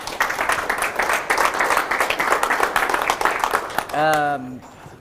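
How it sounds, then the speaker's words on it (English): An audience at a graduate exhibition event claps steadily for about four seconds, then a voice starts speaking as the applause ends. "Keep the applause coming too"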